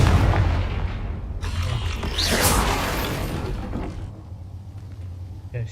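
A Confringo fire spell explodes in Hogwarts Legacy with booming blasts and a mechanical whoosh amid ongoing combat noise that fades toward the end.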